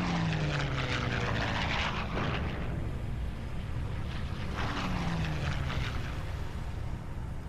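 An aircraft in flight passes with a loud, droning roar and swelling rushing noise, a falling pitch sweep marking each pass, heard without speech.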